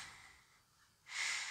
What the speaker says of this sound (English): He's sniffing the couch.